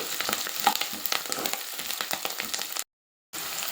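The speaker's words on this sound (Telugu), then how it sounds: "బాగా కలుపుకొని గోధుమ రంగు వచ్చే వరకు వేయించుకోవాలండి." Ginger garlic paste with turmeric sizzles and crackles steadily in a hot pan with scattered pops, close and fairly loud, then cuts to a brief silence before the frying resumes.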